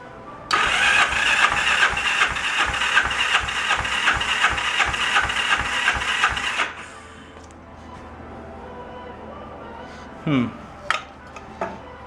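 The electric starter cranks a Kawasaki KZ750 twin for several seconds during a compression test, a loud, rhythmic whirring churn that stops abruptly, followed by quiet with a few brief clanks.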